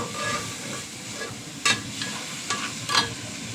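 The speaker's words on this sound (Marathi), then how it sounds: "मिश्रण परतून एकजीव करून घ्यायचं" A mixture is stirred in a hot pan over a constant soft hiss of frying, with a few sharp scraping strokes of the spoon standing out near the end.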